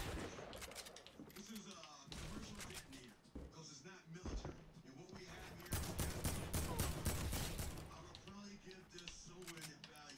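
Rapid gunfire from the Fortnite battle royale game, Season 9, crackling in dense bursts and volleys through most of the stretch, with loud stretches of shooting mixed with players talking over it.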